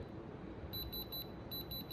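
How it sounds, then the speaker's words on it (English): A diamond tester beeps on moissanite stones, giving a faint run of quick, evenly spaced high electronic beeps in two short bursts over quiet room noise. "Ringing on a diamond tester."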